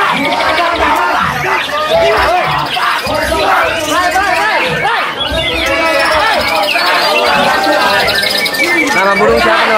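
Many songbirds, including a white-rumped shama, chirp and trill at once at a songbird contest over a dense murmur of crowd chatter, loud and continuous throughout.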